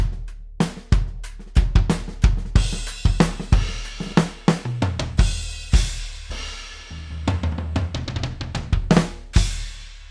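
Alesis Strata Prime electronic drum kit on its New York Maple Kit preset, played as a steady groove of kick, snare and cymbal hits with a busier fill in the middle, loud and close with no talking.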